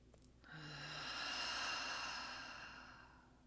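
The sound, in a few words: slow deep breathing in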